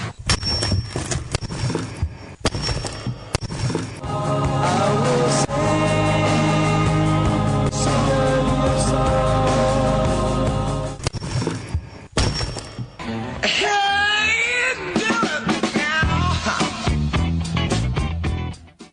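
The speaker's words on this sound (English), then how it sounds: "that's the sound of rock cracking" A loud, dense burst of crunching, thudding impacts and crackling debris as rock cracks, continuous for many seconds and ending in a chaotic, splintering tail.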